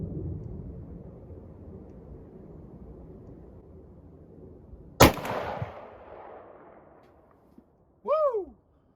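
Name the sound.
458 Win Mag Model 70 rifle firing 500 grain bullets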